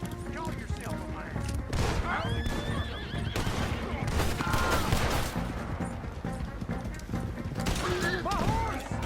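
Horses whinny and neigh repeatedly in Red Dead Redemption 2 during a gunfight, with hooves clattering, gunfire, and shouting voices around them in a loud, chaotic scene.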